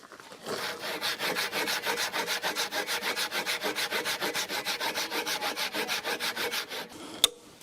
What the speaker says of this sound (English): I'm going to just take the safe road and cut out smaller chunks with my handsaw.